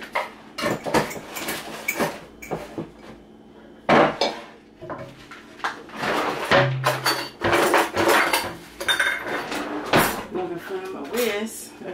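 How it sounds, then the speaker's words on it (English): Fish fry, flour and cornmeal whisked together in a bowl for Southern hot fish, with repeated clinking, scraping strokes of a whisk against the bowl, close and fairly loud, under a speaking voice. "we're just going to whisk these ingredients together"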